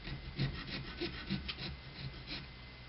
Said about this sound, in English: pulling the saw backwards to actually sawing back and forth